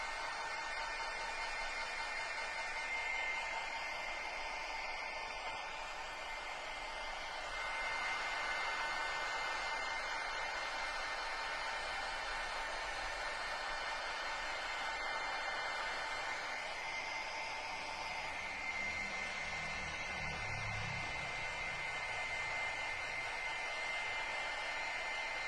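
A heat tool blows steadily to dry paint on an art journal page, a continuous loud whooshing roar with a whining motor tone running the whole time, held close, with no talk over it.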